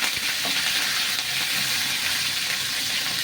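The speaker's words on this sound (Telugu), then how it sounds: "ఇప్పుడు ఇందులో పచ్చిమిరపకాయలు, కరివేపాకు ఇలా వేసుకొని వేయించుకుందామండి." Green chillies and curry leaves crackle in hot tempering oil for buttermilk rasam, a dense, continuous close sizzle with faint spoon movement, steady throughout.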